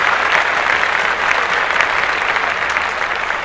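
Studio guests on an urban culture podcast clap steadily for Missy Elliott's Songwriters Hall of Fame honor, a dense, even patter that holds loud and close throughout with no talk over it.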